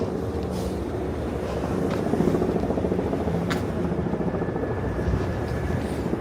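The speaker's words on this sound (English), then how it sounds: "There's a helicopter overhead too" Helicopter rotor drone continuous overhead in New York City, loud and steady throughout with broadband city street noise beneath it.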